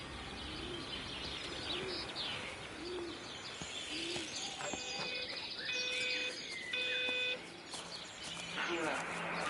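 Pigeons or doves coo repeatedly in a short rhythmic pattern within the ambient soundscape of the video game Everybody's Gone to the Rapture, set near an observatory, mixed with chirps and electronic tones while a voice talks over them.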